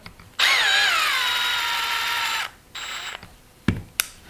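A Milwaukee M12 FUEL FDDX cordless drill-driver whirs up sharply, winds down in pitch as it runs, then gives a shorter burst followed by a couple of clicks.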